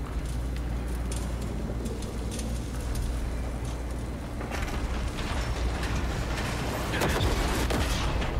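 Huge explosion in an online shooter game, a deep rumbling blast that hits around the middle and rolls on with crackling debris and distant gunfire, loud but somewhat muffled beneath continuous background noise.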